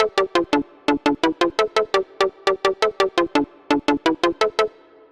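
A Sylenth1 lead synth set up for melodic drum and bass plays quick, short staccato notes in an even, rhythmic melody. Each note is bright and clipped, with brief gaps between phrases and no other sound.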